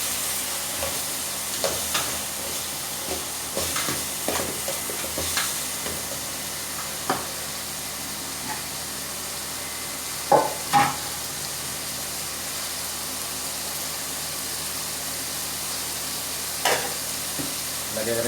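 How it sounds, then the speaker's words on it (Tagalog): Squash (kalabasa) drops into a pot of cooking crab stew with mung beans, making a steady sizzle and stirring noise with several sharp clunks and splats, close and without speech. "kailangan po natin ihulog yung ating kalabasa"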